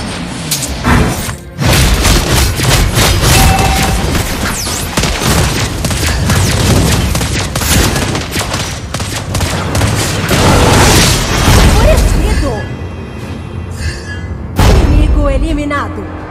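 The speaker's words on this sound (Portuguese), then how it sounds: "Você não pode escapar das minhas explosões." Explosions in Mobile Legends: Bang Bang gameplay come as repeated booming thumps and bursts under game music and character voice lines, loud and dense with brief pauses between volleys.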